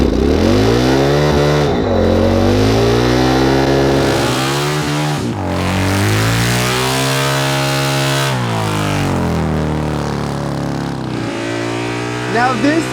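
A Campagna three-wheeler powered by a Harley motor accelerates hard through its sequential gearbox, the loud, close engine note rising repeatedly and dropping at each of several quick upshifts over about thirteen seconds.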